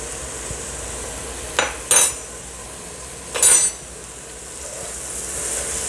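A spoon stirring a papaya leaf and lamb stew seasoned with Himalayan salt scrapes against the pot in a few brief, close clattering strokes, with quiet stretches between them.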